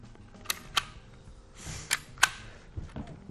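An old-school deluxe Dymo label maker with a metal body clicks several times, sharp separate snaps spaced irregularly over a few seconds, close and fairly quiet with no talk.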